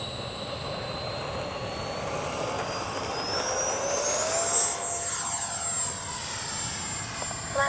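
An E-flite 64mm Viper RC electric ducted-fan jet flies past, a loud continuous whine with a rising and falling pitch as it passes, over steady outdoor background noise.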